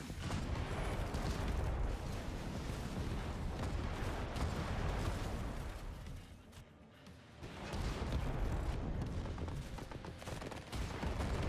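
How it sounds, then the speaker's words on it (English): Sustained gunfire and artillery barrage hammering a building in the real-time strategy game Tempest Rising, a dense continuous roar of shots and blasts that dips briefly midway before resuming at full intensity. "I like how they shoot the building."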